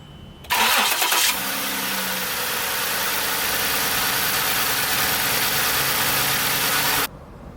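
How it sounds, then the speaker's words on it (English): A 2008 Ford Taurus X with a 3.5 liter V6 cranks briefly and starts after a drive belt and tensioner replacement, then settles into a steady, even idle heard close up for several seconds before cutting off. "go ahead and start up the engine and make sure that the belt is on there right"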